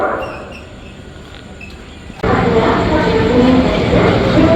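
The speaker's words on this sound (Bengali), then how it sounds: "ট্রেন আমাদের সন্ধ্যে 7:50 ঢুকলো ই রোডের WAG5 সাথে" A Sealdah Duronto Express train hauled by a WAG5 locomotive pulls into a station, its loud rumble rising suddenly midway and holding steady over quieter platform ambience.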